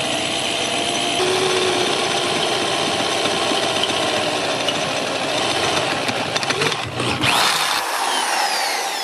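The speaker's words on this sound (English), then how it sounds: "Now when I drill through metal," A handheld power drill fitted with a Walter bit bores through oiled steel at about half speed, a loud steady whine holding for around seven seconds before the motor winds down and stops.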